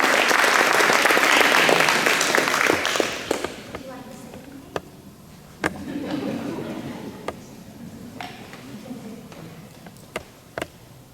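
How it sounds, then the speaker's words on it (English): Audience applause at a school board meeting rises loud and dense for about three seconds, then thins into scattered individual claps as a voice speaks over the room. "will y'all help me by giving Miss Charlie Crump a round of applause."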